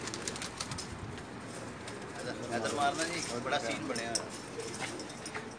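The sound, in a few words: pigeons cooing on a rooftop loft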